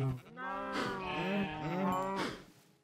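Several Minecraft cows, including calves, moo in a crowded farm pen: a series of long, drawn-out lowing calls overlapping one another at moderate volume with no talk.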